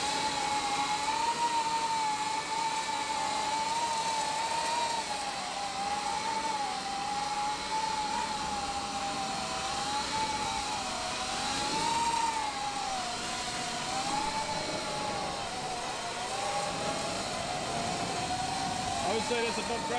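A drone with conventional propellers hovering at about half throttle, a continuous buzzing whine that wavers gently in pitch as it flies, steady and fairly close throughout.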